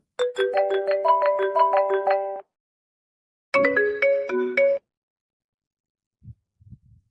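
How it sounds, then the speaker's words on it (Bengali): The original iPhone ringtone plays loud and clear from a phone, a bright marimba-like melodic run of repeated notes, a pause, then a shorter second phrase, followed by faint low taps. "আইফোনের অরিজিনাল রিংটোনটি কিন্তু ডাউনলোড হয়ে গেছে"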